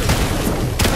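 Gunfire from the Fortnite game, a loud burst of close shots with two sharp cracks about three quarters of a second apart over a continuous roar.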